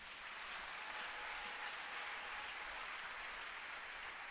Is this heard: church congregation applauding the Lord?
yes